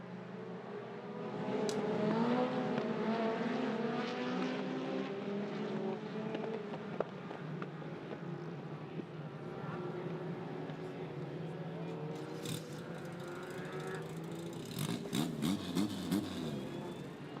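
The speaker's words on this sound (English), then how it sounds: "Motorbike engines, great sound effects as they head down towards turn 1." Race cars fitted with motorbike engines scream past at a circuit, heading toward turn 1, with rising and falling engine whines mixing under a commentator's voice throughout.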